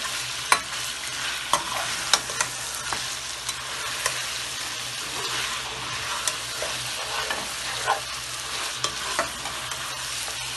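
Chicken frying in a pan for white karahi, a steady sizzle with intermittent clicks and scrapes of stirring, close and with no talking.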